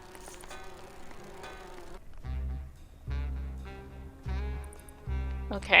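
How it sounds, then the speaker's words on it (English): Bees in the video game Grim Fandango, a steady droning buzz that swells in repeated low humming pulses, moderately loud, with no talk over it. "These bees don't seem too busy."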